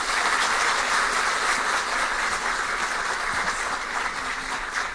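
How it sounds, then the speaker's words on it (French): Warm applause from an audience at a podium ceremony with partners, students and teachers present, a steady dense clapping that holds for about five seconds and eases slightly toward the end. "que je vous demande d'applaudir chaudement."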